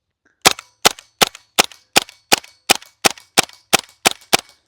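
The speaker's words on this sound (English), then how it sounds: "There's a lot of tinging going on, like you could hear the recoil spring." A GHK G5 gas airsoft rifle fires eleven sharp, evenly spaced single shots up close, each crack trailed by a brief metallic ring from the recoil spring, with no talk.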